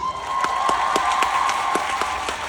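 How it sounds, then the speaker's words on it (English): A crowd applauds at a fan meeting in Manila, with steady, dense clapping filling the whole stretch at a fairly loud, even level. "let's give him a round of applause"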